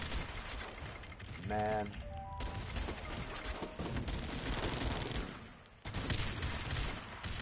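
Gunfire in the war strategy video game Guns Up Alliance, dense bursts and rattling volleys of shots running almost continuously, loud and close, with someone briefly speaking over the game sounds.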